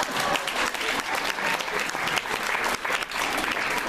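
Audience applause fills a Korean community gathering honoring the head of an overseas Korean nurses' association, steady dense clapping from a room of listeners sustained throughout at close range.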